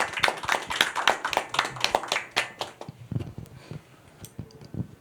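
Audience clapping at an economic forum to welcome a speaker, loud and dense at first and then thinning to scattered claps that fade out.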